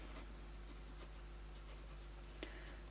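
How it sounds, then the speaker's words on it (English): A pen scratches across a paper planner page in short, quiet strokes over a low steady hum, close and soft, with one brief sharper tap near the end. "So I'll write that on there as well."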